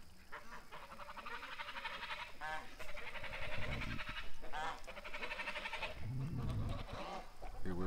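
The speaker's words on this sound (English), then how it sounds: "with 20 plus screaming geese" A flock of over twenty geese honks and squawks repeatedly, many overlapping calls nearby, with a person talking quietly underneath.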